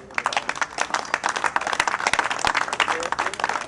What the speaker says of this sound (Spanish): Entonces, un aplauso a todos los patrocinadores.